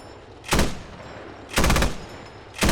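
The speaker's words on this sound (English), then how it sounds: "So here we have the anti-aircraft cannon, and the sound on this thing is pretty intense if you want to take a listen." Anti-aircraft cannon in the Squad video game firing three heavy, booming bursts spaced about a second apart, each a loud, broad blast with a short decay, over a low steady background.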